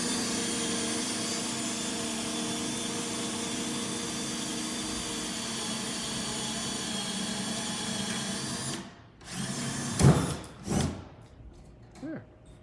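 A power drill runs steadily and fairly loud while boring holes in wood for a DIY coat rack, with a steady whine and hum that cuts off near the end, followed by a few handling knocks.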